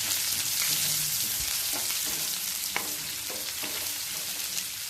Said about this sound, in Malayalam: ഉള്ളി നല്ല ഗോൾഡൻ കളറാകുന്നത് വരെ നന്നായിട്ട് തന്നെ വഴറ്റി കൊടുക്കാം.